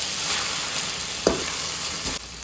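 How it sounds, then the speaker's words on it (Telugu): Okra pieces fry uncovered in a pan with salt and turmeric, giving a steady, close sizzle throughout. A brief clatter of stirring cuts in near the middle and again near the end. "బెండకాయ ముక్కలు అయితే ఇలా ఫ్రై చేసుకోవాలి ఫ్రెండ్స్."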